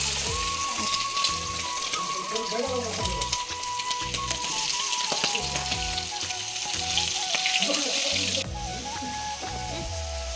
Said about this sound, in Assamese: এফালে গ্ৰেভি বনাবৰ কাৰণে বিলাহী আৰু পিয়াজ ভাজি আছে